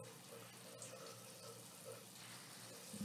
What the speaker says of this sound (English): The water is pouring over his face.